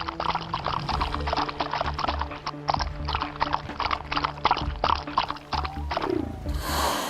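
A horse gallops at speed, its hooves pounding in a quick, steady clip-clop rhythm that runs close and loud the whole way, with no voices.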